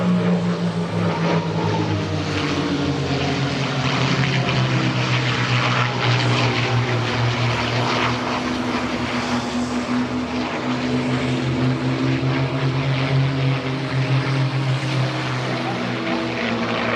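Aerobatic propeller airplanes fly a rolling formation at an air show, their engines producing a sustained loud droning roar with shifting pitch that fills the whole stretch, with no voices over it.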